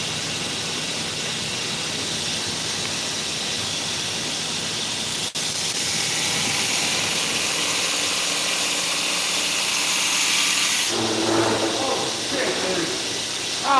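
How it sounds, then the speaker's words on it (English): A grinder shapes the bevels on a Thug model knife blade of CPM CruWear steel hardened to 65 HRC, a steady broadband grinding hiss that runs throughout and turns rougher and more uneven near the end. "We're just grinding the bevels on it right now."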